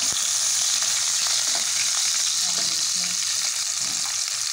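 Garlic fries in hot mustard oil, a loud continuous crackling sizzle with occasional soft stirring sounds, heard close up with no one talking.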